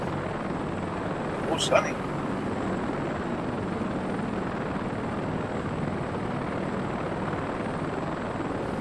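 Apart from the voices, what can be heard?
Westland Scout helicopter flying, from video game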